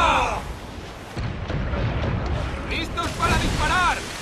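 Ship mortar cannons fire in Assassin's Creed 4: Black Flag, deep booms and rumbling blasts under overlapping shouted crew voices, with several bursts across the few seconds.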